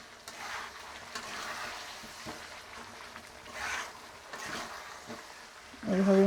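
A spoon scrapes and stirs a potato-and-egg masala frying in oil with a little added water, giving soft, periodic scraping swishes over a faint sizzle, and a voice briefly appears at the end.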